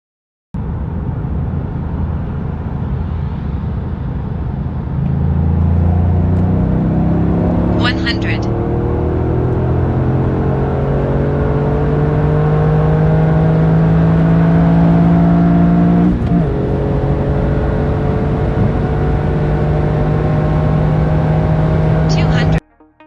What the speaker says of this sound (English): let's have a look at how the stock GR Yaris performs in a 100 to 200 km per hour run on the German Autobahn